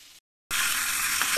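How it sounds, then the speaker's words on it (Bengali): Medium-sized whole hilsa fry in hot oil in a pan with a loud, steady, close sizzle that sets in abruptly after a brief cut of silence. Before the cut the same frying is quieter. "এক পাশ মাছের ভাজা হয়ে গেছে, আর এই পাশ ভাজা হলে আমি মাছগুলো তুলে নেব"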